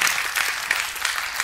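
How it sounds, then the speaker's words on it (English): Audience at the FOSSASIA Open Tech Summit applauding themselves at the opening, a brief burst of close, bright clapping from many hands, with irregular peaks and no talk. "give yourself a round of applause"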